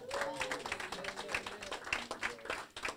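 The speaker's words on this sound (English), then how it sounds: "you got a little bit more applause than I did" A room full of people applauds at a grand opening for Judge Rupp, steady clapping heard from a distance at modest volume with faint crowd murmur underneath.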